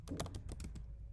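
Rapid keystrokes on a computer keyboard while entering a console.log line of JavaScript code, a quick cluster of close clicks over about a second, with no talking.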